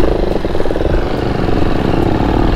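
A Husqvarna 401 chainsaw engine with its silencer removed runs steadily close by, a loud, raw mid-pitched buzz holding an even speed throughout with no people talking.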